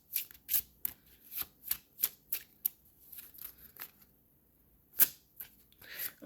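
A deck of cards being shuffled for a reading, a quick run of crisp riffling snaps in an uneven rhythm, close and fairly quiet, with a short pause before a final few flicks.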